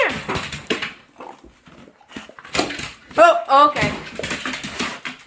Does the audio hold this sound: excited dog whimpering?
yes